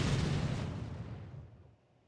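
A cannon entity fires in Garry's Mod, one loud booming blast that trails off in a long, rumbling decay.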